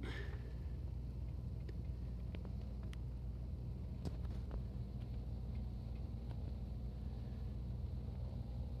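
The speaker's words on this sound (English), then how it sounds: "And then I'm gonna go in my car and investigate." Car driving in the Roblox game Brookhaven, a steady low engine rumble running throughout, with faint scattered clicks over it and no talking.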